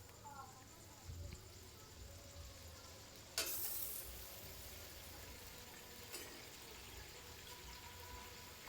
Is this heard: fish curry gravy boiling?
yes